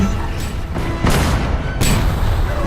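Loud booming blasts of cannon fire in a Roblox war game, several heavy thuds over a dense, rumbling background.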